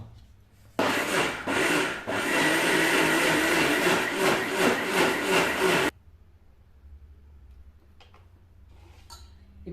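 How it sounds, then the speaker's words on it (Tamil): A mixer grinder coarsely grinding soaked moong dal for idli batter: a loud, steady whirring grind that runs for about five seconds, then cuts off abruptly, leaving faint clicks and quiet handling. "இப்போ இதை கொரகொரப்பாக அரைச்சிட்டு வந்துடுறேன்."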